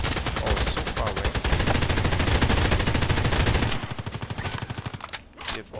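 Fully automatic bursts from an M4A1 Custom rifle in the shooter game Contract Wars, rapid evenly spaced shots in a loud sustained stream that slows into a shorter burst and then stops.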